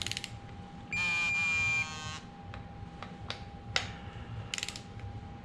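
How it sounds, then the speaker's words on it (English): A torque wrench on the bolts of a VG30TT engine, a sustained electronic beep followed by a string of sharp clicks and ratcheting ticks, close and fairly quiet, with no talking. "I just want to recheck the torque on these two."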